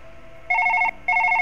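A telephone rings in two loud electronic bursts, each a rapid trilling tone about half a second long, separated by a short gap.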